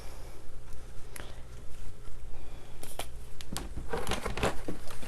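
A paper towel being pulled and torn from a roll at an art journaling table, close crinkly rustling and tearing that builds into a busier burst of crumpling near the end, with no talking.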